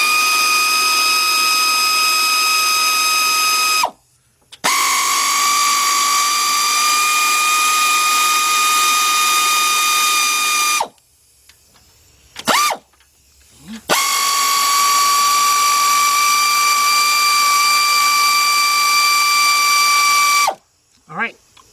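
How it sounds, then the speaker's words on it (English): A loud air compressor runs in a garage during intake manifold and head gasket work on a 2004 Chevy Monte Carlo 3.4, giving a steady high whine in long bursts that stop abruptly several times. "I'm going to use my air ratchet, and I'm going to cut my air compressor on"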